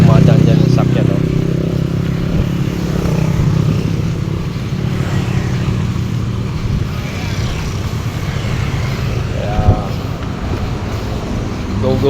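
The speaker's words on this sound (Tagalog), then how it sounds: "Dami mga nagmumotor" Motorcycles pass along a road on a morning jog, their engines rumbling steadily and fairly close for several seconds, with wind and a voice audible in the mix.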